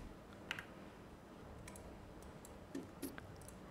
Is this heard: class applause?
no